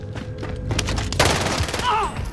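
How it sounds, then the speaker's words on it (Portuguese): Gunfire and a grenade blast in Call of Duty Warzone, a dense burst of shots and booms crowding together over about two seconds, with game noise and a faint voice mixed in. "Granada."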